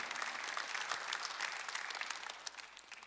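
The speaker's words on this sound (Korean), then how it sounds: "박수하면서" A congregation claps during a Sunday church service, a steady wash of many hands applauding together at moderate distance, continuous and even for the whole stretch with no pauses.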